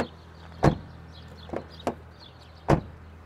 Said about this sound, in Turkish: Kapı sesini de dinleteyim.